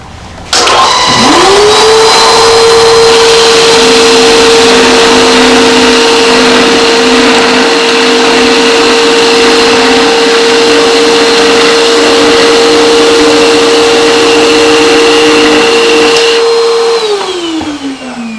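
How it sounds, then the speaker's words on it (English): A loud, steady drone with a high whine from a small single-disc concrete floor grinder running with a vacuum, continuous for most of the clip, spinning up at the start and winding down at the end, with no talking. "Doing it with a small grinder."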